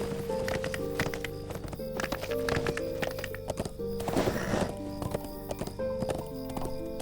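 Horse hooves clip-clop steadily while riding in the Lord of the Rings Online game, with a short whinny in the middle and a constant rhythmic gait over background music.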